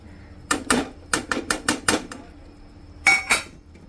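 A spoon clatters against a metal pot while boiled vegetables are mixed for veg biryani, giving a quick series of sharp clinks and scrapes, then a short pause and two more knocks. No one speaks.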